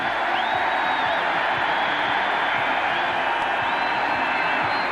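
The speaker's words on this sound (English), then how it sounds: "they're trying to get the crowd quiet" Steady roar of a large stadium crowd at a 1985 Texas versus Texas A&M college football game, dense continuous cheering and murmur with faint whistling tones and no clear breaks.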